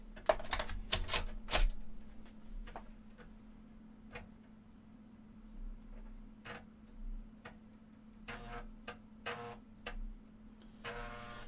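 An Amiga 500 floppy drive clicks and ticks while loading the Lemmings disk, giving off sharp, irregular bursts and some quick runs of clicks over a steady low electrical hum, close by and with no talk.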